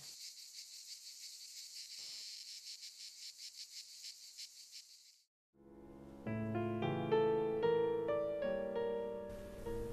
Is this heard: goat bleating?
no